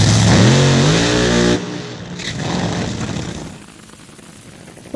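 Drag racing car launching hard, its loud engine climbing in pitch through a fast rev, then an abrupt drop to a roaring, fading blast as it pulls away down the strip.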